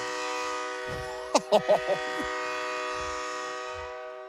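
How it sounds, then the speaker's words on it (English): A steady, horn-like train whistle drones throughout at a high school football game, broken by four quick, sharp toots in a row over a noisy crowd. "They brought their own train whistle"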